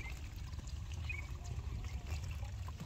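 Water is poured out by hand during village fishing, making a steady trickling and splashing that runs continuously at moderate loudness against a low outdoor rumble.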